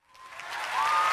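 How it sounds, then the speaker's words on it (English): A round of applause swells from silence into steady, dense clapping, growing louder over about a second and staying full to the end, with no voices. "giving you a big round of applause"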